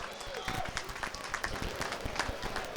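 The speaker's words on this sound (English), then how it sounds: "Give this man a round of applause." Applause from a gala audience for a winning bidder at a charity auction, a steady patter of many hands with a few voices mixed in.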